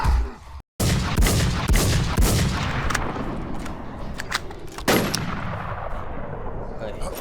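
Sniper rifle fire in a video game, a loud booming shot with a brief dropout, then continuous heavy gunfire and blasts, with more sharp shots near the end.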